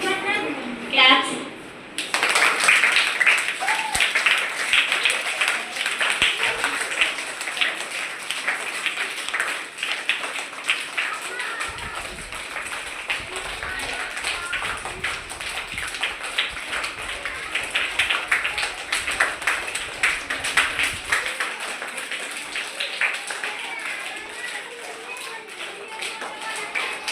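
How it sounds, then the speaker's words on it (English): An audience at a Teachers Day celebration in Reddy Nagar claps in sustained applause for more than twenty seconds, a dense patter of many hands that ebbs and swells, after a short voice at the start. "Claps."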